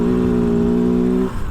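A 2023 Kove FSE 450R Rally motorcycle engine drones steadily and loudly while the bike is ridden, holding an even pitch before it briefly drops away near the end.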